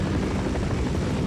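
Helicopter rotor and engine from the video game Infiltration, a steady close drone with continuous thudding blade chop throughout, no voices.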